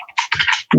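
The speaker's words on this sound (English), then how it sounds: "so that I can type this quickly." Quick keystrokes on a computer keyboard while coding a deep learning model in PyTorch, a short burst of clustered clicks and taps up close, with a louder thump at the end.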